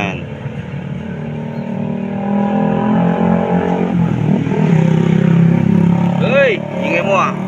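Roadside traffic with the steady drone of passing car and motorcycle engines, loud and close, rising and falling under a person talking nearby.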